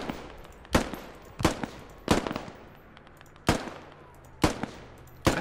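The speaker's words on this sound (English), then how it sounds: "Accurate little gun, the M4, isn't it?" Rifle gunfire from an M4 in the Squad video game, seven sharp single shots at irregular intervals of under a second, loud and close, with no talking.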